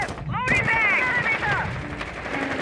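Rapid gunshots crack in the tactical shooter Rainbow Six Siege, short bursts of fire sounding close and loud alongside a player's voice and other game effects.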